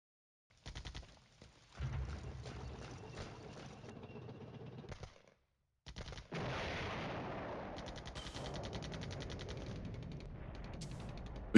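An artillery barrage in the Flashpoint Campaigns Cold War video game booms and rumbles in rapid repeated bursts, first in a cluster of blasts, then after a short gap as a dense, sustained roll of distant impacts.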